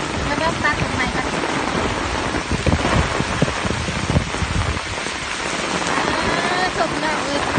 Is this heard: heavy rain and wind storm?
yes